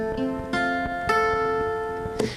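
Fingerpicked chord on guitar, several notes plucked in quick succession and left ringing, with a few fresh attacks over roughly two seconds, played alone and close.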